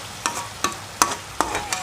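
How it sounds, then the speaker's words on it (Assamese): Banana stem fry is stirred in a pan with a utensil, giving five sharp scraping strokes at a slow, steady rhythm over a faint sizzle, close up and with no talking. "এতিয়া মই এইখিনি ভালদৰে লৰাই দিছোঁ।"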